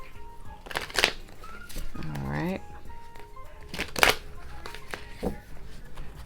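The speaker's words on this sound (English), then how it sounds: "I would shuffle the tarot cards" Tarot cards from the Light Seers Tarot deck being shuffled, a few sharp riffling bursts spaced a couple of seconds apart, close and crisp, with a person talking softly between them.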